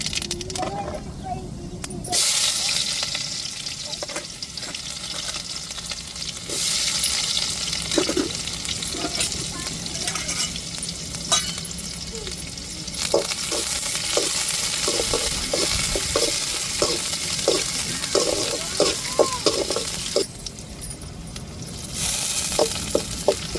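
Mustard seeds and onion frying in a pan for a fasting-day meal, a loud continuous sizzle with scattered pops and stirring scrapes throughout, with faint voices in the background.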